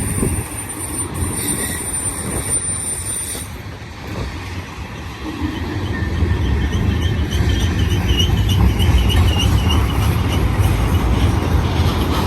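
BNSF mixed manifest freight train rolling past at a trackside spot called The Rocks, a loud, continuous low rumble and grinding of wheels and cars that swells louder partway through and holds steady, with no voices.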